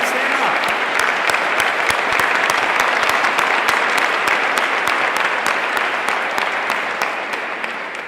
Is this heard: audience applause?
yes